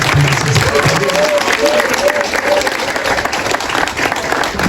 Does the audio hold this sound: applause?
yes